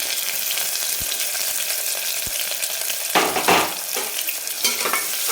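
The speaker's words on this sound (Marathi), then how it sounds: "तेल गरम झालं की आपण एक कांदा ओवा कट करून घेतलेला आहे तो टाकून घेऊ" A medium onion, chopped, frying in hot oil in a pan for tawa mutton, a loud continuous sizzle with brief scraping stirs and a couple of low thumps.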